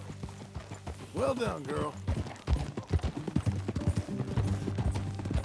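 Horse hooves clip-clop at a steady walking pace in Red Dead Redemption 2, close and rhythmic beneath a rider's brief spoken words.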